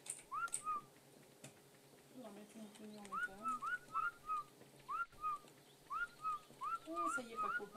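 Short rising whistled chirps in the video game Ark: Survival repeat in quick bursts, faint and somewhat distant, with a low voice murmuring briefly in between.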